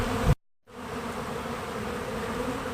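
Bees robbing a beehive make a steady, dense buzzing hum that drops out briefly near the start, then continues evenly and close by.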